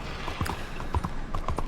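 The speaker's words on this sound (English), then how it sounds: "we've got horses and carts" Horse hooves clip-clop on a town street in the Red Dead Redemption 2 video game, several uneven steps close by over a low murmur of ambience, with no talk.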